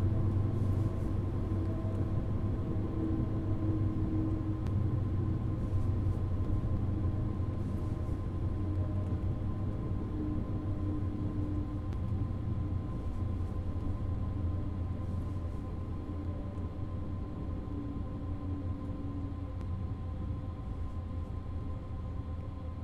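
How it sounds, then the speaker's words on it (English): Electric passenger train in Train Sim World 5 on the Frankfurt–Fulda route, braking automatically to a stop at a red signal: a steady low rumble and hum of the cab, even and continuous, with no talk. "the train is bringing us to a halt automatically because of that red"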